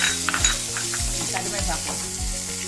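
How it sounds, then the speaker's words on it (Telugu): Green chillies hit hot oil in a tempering for buttermilk and sizzle steadily. A utensil scrapes and stirs the pan in a regular rhythm, close up, with no talk. "పోపు వేగిపోయింది. ఇప్పుడు పచ్చిమిరపకాయలు వేస్తాను."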